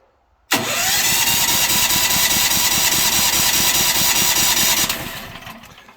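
A Firman 7500W tri-fuel backup generator for a house starts abruptly and runs at a loud, steady, close rumbling drone for several seconds, then winds down as it shuts off, no voices.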